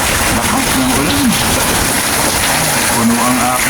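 Heavy rain falls in a steady, loud roar of spatter and splashing, with a faint voice-like tone drifting through the downpour.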